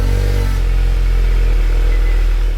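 A Volkswagen Golf MK7 GTI drives on UK roads, its engine droning steadily and loudly with a low rumble and a shift in tone partway through, heard from inside the car.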